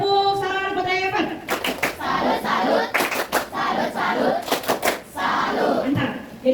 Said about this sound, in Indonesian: Terima kasih tepuk salam buat Revan.